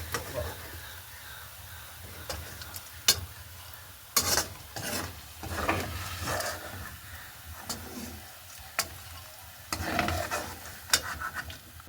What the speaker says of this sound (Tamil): பிறகு வாழைக்காயும் நல்லபடியாக பொரிஞ்சு வந்துட்டு அதையும் இறக்கி எடுக்க போகிறோம்